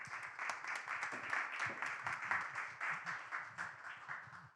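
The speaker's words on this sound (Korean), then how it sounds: "그럼 임덕정 대표님을 무대 위로 모시도록 하겠습니다. 큰 박수로 맞이해 주시기 바랍니다." An audience claps to welcome a speaker onto the stage at a university student mentoring event, a moderate, steady patter of applause that rises and falls across the whole stretch.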